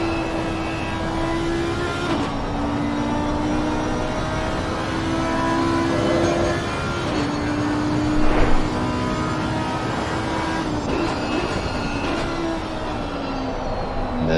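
Race cars lapping the Kyalami circuit in a racing video game, a continuous engine drone with repeated pitch shifts as gears change, one brief louder surge near the middle, no voices.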